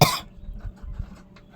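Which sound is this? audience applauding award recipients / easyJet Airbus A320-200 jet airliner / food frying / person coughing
person coughing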